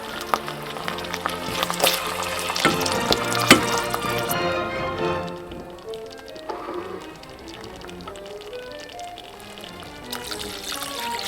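Water poured into a pot of simmering tomato sauce for an instant ramen recipe, a close, steady splashing pour that softens after about four seconds into quieter bubbling and trickling.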